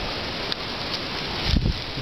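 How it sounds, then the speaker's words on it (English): Steady broadband rush of rain and gusting wind from a fast-moving storm at Marpi jungle near a cliff, with a brief louder buffet of wind against the microphone near the end. "The storm has really moved in fast."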